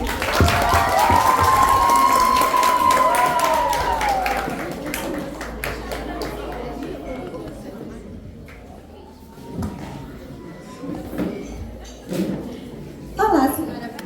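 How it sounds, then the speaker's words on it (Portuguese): Audience applause and cheering at a school literary presentation, a loud dense burst of clapping and crowd noise at first that gradually thins into scattered claps, with voices talking over it. "Palmas, gente!"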